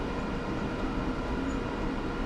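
Simulated train rolling through a New York Northeast Corridor scenario in Train Sim World, a steady close rumble of wheels and carriage noise holding even and unbroken throughout.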